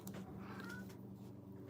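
A pet cat meows faintly indoors while knocking things around and making a ruckus, with a low steady background hum throughout.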